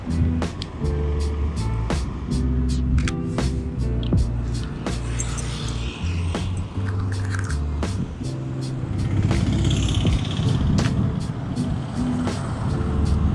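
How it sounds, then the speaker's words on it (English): Traffic rolls past on a road in a continuous, loud engine and tyre rumble, with sharp clicks and a heavy vehicle's drone mixed in. "Waiting for the car to pass by."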